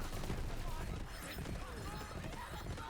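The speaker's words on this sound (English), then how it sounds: "that one grenade splits into like 20 grenades" Borderlands 3 grenade bursting into a dense swarm of explosions, a continuous loud crackling barrage of rapid blasts and pops filling the whole stretch.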